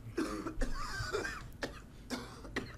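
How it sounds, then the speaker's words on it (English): Several sharp coughs in quick bursts in the video game Fallout 4, close and moderately loud, with rough throat sounds between them. "I'm coughing to death."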